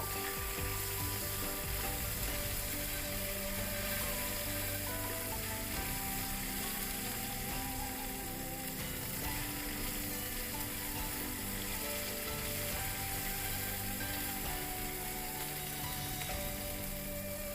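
Nuts and asafoetida with five-spice seeds fry in hot oil for khichuri, giving a steady close sizzle with faint stirring and clinking, no talk.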